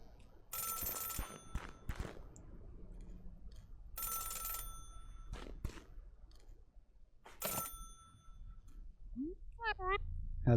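Telephone ringing in the video game Celeste, several bright ring bursts at uneven intervals, close and clear, with a chirping game sound near the end and faint background music beneath.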